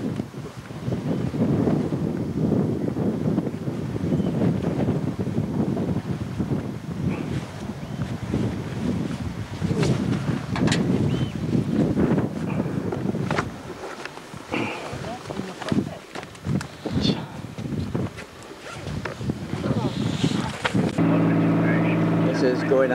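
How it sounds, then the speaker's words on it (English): A ferry crossing open water in Scotland, with steady wind buffeting the microphone over a low engine and water rumble that runs throughout, briefly easing mid-crossing before building again. "This is going across on the ferry."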